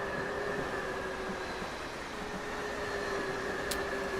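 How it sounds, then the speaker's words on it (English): In a train driving video game, a passing train produces a steady low rumble with faint sustained tonal whine, fairly quiet and continuous, with a brief high squeak near the end and no talking. "Oh, there's another train."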